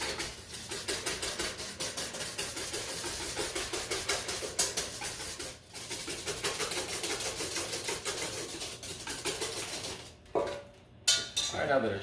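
Milk and sugar are stirred in a metal pot, a fast, continuous clatter of utensil against the pot walls that pauses briefly midway and breaks off near the end.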